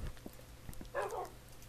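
A Minecraft wolf lets out a short, faint whine or bark-like yelp over quiet game ambience, preceded by a few soft taps.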